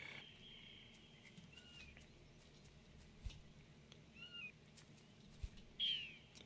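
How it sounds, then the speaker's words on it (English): Birds call in a swamp in the Swamp Up game: a few sharp, high chirps and whistles ring out at intervals, moderately near, over a low steady ambient hum with no talking. "so I hear those birds"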